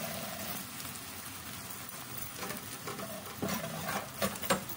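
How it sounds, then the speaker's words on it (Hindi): Chopped onion, garlic and ginger paste fry in hot oil, giving a steady dense sizzle with occasional stirring scrapes and pops, close and continuous with no talking. "हम इसमें चॉप की हुई प्याज लहसुन अदरक का पेस्ट डालेंगे।"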